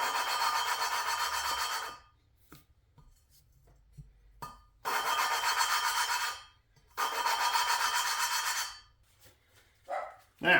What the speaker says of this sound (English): Work it back and forth, lift it up every once in a while because that'll pull some of the grit back into the joint.